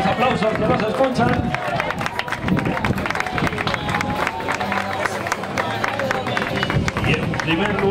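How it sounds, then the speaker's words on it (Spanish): A lively crowd applauds at an open-water swimming race prize ceremony, with dense clapping mixed with cheering and loud voices speaking over the noise throughout. "Los aplausos que nos escuchan"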